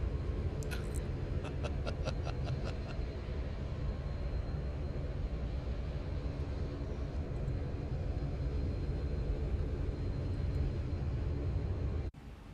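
Low-flying Boeing 737-800 airliner in the X-Plane 11 flight simulator, a steady droning jet engine roar holding for about twelve seconds, with a few faint clicks early on, before cutting off abruptly.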